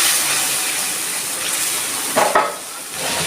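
A splash of bowl-rinsing water hits a hot pan of tomato, onion, garlic and ginger paste, setting off a steady hissing sizzle with a brief louder burst of spitting partway through.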